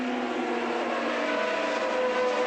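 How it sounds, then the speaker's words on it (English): Loud, continuous roar of high-revving 1981 Formula One cars at the race start, a tight pack droning together with shifting whining pitches and no break. "The red lights are about to go on, the revs are rising, and away they go."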